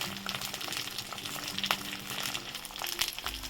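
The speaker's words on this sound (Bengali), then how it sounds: "মশলাটা আমি হাই হিটে ভেজে দিচ্ছি" Chopped tomatoes, green chillies and ginger-garlic paste fry in hot oil over high heat, giving a steady soft sizzle with occasional faint stirring clinks.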